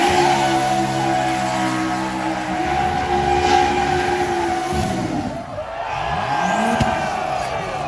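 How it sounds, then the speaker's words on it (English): Twin-turbo Lamborghini Huracan driving hard at Hoonigan's burn yard, engine roaring with shifting pitch, tires squealing and skidding as it slides, loud and close, with voices briefly heard. "Here's them in a Turbo Huracan at Hoonigan"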